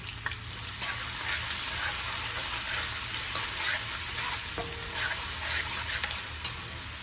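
Onions fry in a pan with a steady, close sizzle that runs throughout, and a spoon briefly scrapes and stirs now and then.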